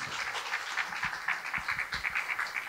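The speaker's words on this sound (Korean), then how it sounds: "큰 박수로 환영 부탁드리겠습니다." Lecture-hall audience applauding to welcome a speaker at a KAIST lecture event, a fairly faint, continuous patter of many hands clapping at a distance.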